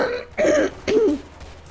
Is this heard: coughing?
yes